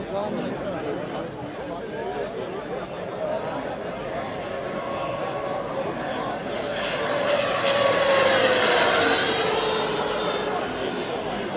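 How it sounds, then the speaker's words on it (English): A scale RC Pilatus PC-21 model aircraft with a Kingtech K60 turboprop engine runs with a steady turbine whine that swells louder partway through, under a voice talking at the Jetpower trade fair 2015. "der Antrieb ist eine Kingtech K60 Turboprop Engine"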